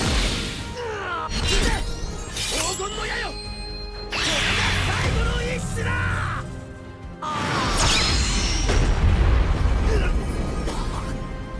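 Goku's Spirit Bomb ultimate attack in the Jump Force fighting game, several loud booming blasts with crashing, shattering bursts and whooshes, coming in three big waves separated by short lulls.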